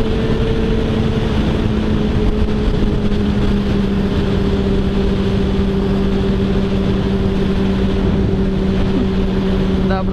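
A motorcycle engine drones steadily while riding on a road, with a constant loud hum and wind noise throughout and no clear surges.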